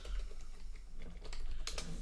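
Rapid clicking keystrokes on a computer keyboard, a close, steady patter of taps over two seconds with a few sharper strikes near the end and no voices.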